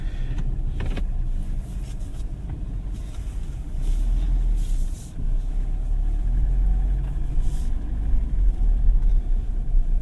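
The 2.4 diesel engine of a 2024 Mitsubishi Triton runs steadily, heard from inside the moving vehicle, with a low continuous rumble and road noise and no voices.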